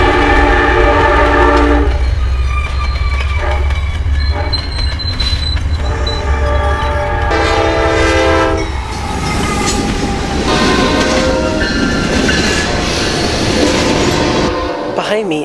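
A train rumbles close by at a railway station in Manassas, Virginia, with a long blaring horn blast, then wheels clatter and screech along the tracks; loud and continuous, with faint voices underneath.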